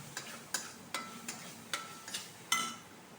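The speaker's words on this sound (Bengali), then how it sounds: "সামান্য ঘি দিয়ে এবার এটাকে কষিয়ে নেব আর কি, মশলাটা ভেজে নেব।" Spice paste frying in a little ghee, heard as a faint steady sizzle broken by a regular series of soft ticking spatula taps against the pan, close and quiet, with no talking.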